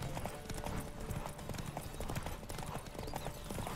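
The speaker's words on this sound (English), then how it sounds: "I love the random horse races." Galloping horse hooves during a horse race in The Witcher 3 video game, rapid rhythmic clip-clop beats at close range, steady and fairly quiet throughout.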